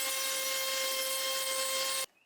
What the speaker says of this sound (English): I need to sand this down.